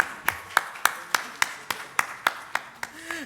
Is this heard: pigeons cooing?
no